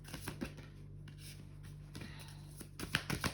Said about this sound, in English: I didn't shuffle that properly